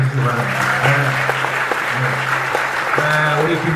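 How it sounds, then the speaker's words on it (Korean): A Korean audience at a lecture event applauds steadily throughout, a sustained wash of clapping with a faint voice and tonal hum running underneath. "박수 한번 더 쳐주시기 바랍니다."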